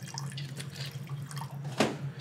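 Water poured into a pan for a pickling liquid with black peppercorns and tarragon, a soft, continuous splashing and trickling close by, with no voices.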